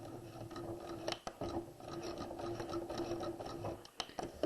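A sewing machine back stitches a waistline facing, running in a steady mechanical whir with brief pauses and faint clicks, close and alone.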